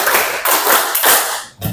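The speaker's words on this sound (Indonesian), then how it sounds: "Yuk, tepuk tangan untuk semuanya." Applause from a class of students during a teacher performance assessment, a few loud bursts of clapping with brief gaps between them, close and dense.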